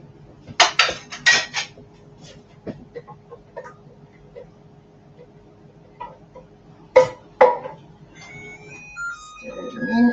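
Kitchen clatter of a large 800 gram tin of diced tomatoes being opened and tipped into a pot of lasagne sauce, with sharp metallic clanks in bursts and a few scattered knocks.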